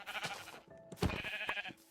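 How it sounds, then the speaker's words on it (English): Sheep in the video game Minecraft give a couple of nasal, wavering bleats in quick succession, heard close and fairly loud against a light background. "We found 2 sheep."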